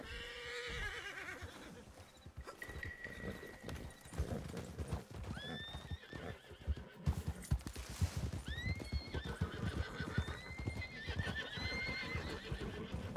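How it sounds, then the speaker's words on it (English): Horse from the game Red Dead Online neighing in several clear rising whinnies over a steady clip-clop of hooves, fairly close and loud, running the whole length with no talk. "Cool horse noises."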